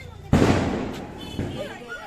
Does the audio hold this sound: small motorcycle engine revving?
no